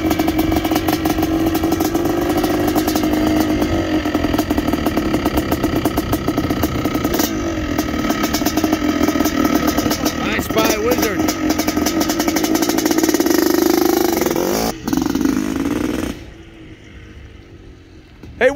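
A 1979 Yamaha YZ250 two-stroke motocross bike, a Bob Hannah replica, runs loud and close at steady throttle with revving surges, then cuts off near the end, with people talking over it.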